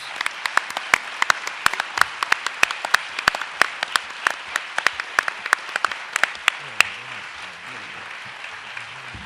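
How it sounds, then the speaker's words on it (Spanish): Scattered hands clap at an anniversary science event, sharp individual claps in a loose irregular rhythm, thinning toward the end while a voice speaks faintly underneath. "Fuerte, fuerte el aplauso."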